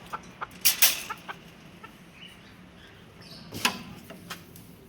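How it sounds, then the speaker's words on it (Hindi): Desi hens cluck in short, scattered bursts close by, a couple of louder squawks standing out over quiet farmyard background. "अंडे दे रही है देसी मुर्गी।"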